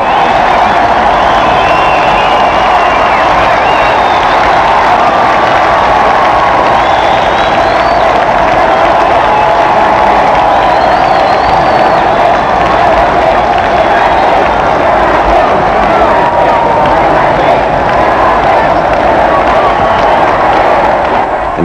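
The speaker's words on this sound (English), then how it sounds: "Receives a roar of approval from the crowd, who call the couple back and back again onto the balcony" A huge crowd of about 500,000 people roars and cheers outside the palace balcony at the 1981 royal wedding. The noise is a loud, sustained, even roar, with whistles and shouts rising out of it.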